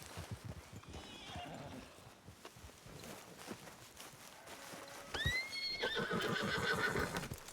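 A horse in the Red Dead Redemption 2 video game clip-clops along with soft hoof steps before a loud whinny rises near the end, with faint voices murmuring underneath.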